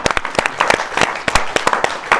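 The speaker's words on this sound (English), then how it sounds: "Let's clap" An audience breaks into a short burst of brisk, loud applause, individual claps distinct and close, honoring the speaker's 82-year-old mother.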